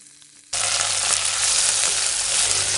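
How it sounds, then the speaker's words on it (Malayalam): Moringa leaves dropped into hot oil with browned shallots and dried chili set off a loud, steady sizzle after a brief quiet start, crackling continuously with no one speaking. "ഇനി ഇതിലോട്ട് നമുക്ക് മുരിങ്ങയില ഇട്ട് കൊടുക്കാം."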